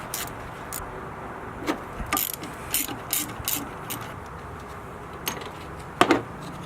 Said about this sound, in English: you take your 8mm socket and you remove these two top 8mm bolts